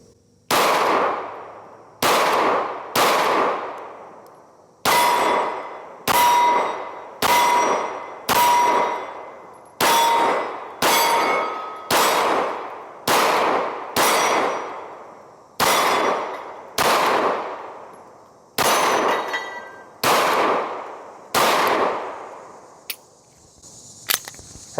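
Hellcat Pro Comp pistol loaded with New Republic ammunition fires about seventeen loud, sharp shots at steel targets on a Texas Star, coming in quick pairs and bursts with ringing steel hits between them.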